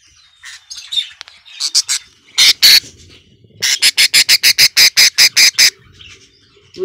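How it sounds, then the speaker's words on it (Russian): A frightened budgerigar chick gives harsh, shrill squawks, first in scattered bursts and then in a fast, even run of about ten loud calls, close by and alone. "Обычно, когда попугай напуган, он издает вот такой вот резкий звук."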